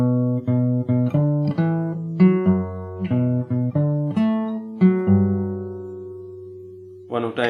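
An acoustic guitar plays a song from Cyberpunk 2077, plucked notes and chords ringing out clearly and alone at a moderate pace, ending on a sustained note.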